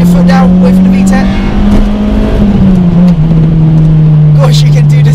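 Honda Civic Type R EP3 with a Mugen twin loop exhaust pulls hard under full throttle, a loud steady engine drone rising slightly and holding near, with a brief dip as revs climb into VTEC.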